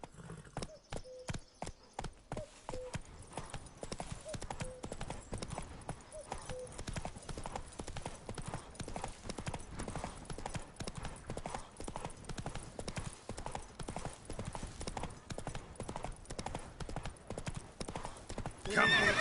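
Roach, a horse in The Witcher 3, trotting with a steady, rapid clip-clop of hooves throughout, loud and close, joined by a brief whinny. A voice speaks over it.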